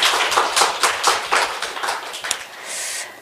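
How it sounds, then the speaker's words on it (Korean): A church congregation claps during a Sunday worship service, a short burst of uneven handclaps that swells and then thins out over about three seconds, fairly close and moderately loud. "주님께 박수 한번 드리겠습니다."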